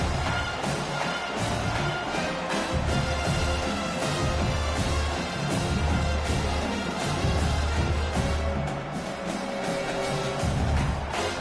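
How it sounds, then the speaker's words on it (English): A college football stadium crowd at an FCS CAA Conference game roars steadily and loudly as fans rally behind the defense on third down, a dense continuous wall of cheering with no clear break. "Decibels rising as the crowd gets behind this defense on 3rd down."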